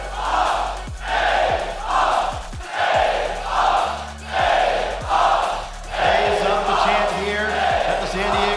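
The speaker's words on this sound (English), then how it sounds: "Listen to this crowd." A large arena crowd at the Call of Duty League grand finals, San Diego convention center, roars and cheers in repeated swelling waves, loud and sustained, with chants and whoops rising over a deep rumble.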